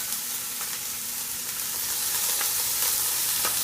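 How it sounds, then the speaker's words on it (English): Ground beef sizzles in a pan for lasagna, a steady close hiss of frying with faint occasional ticks and pops, growing slightly louder toward the end, with no one talking. "ground beef going in here for the lasagna"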